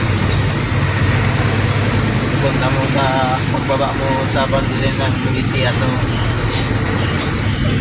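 Busy road traffic with cars and buses near Nueva Vizcaya in Cagayan Valley: a steady loud engine and road rumble close by, with someone talking over it.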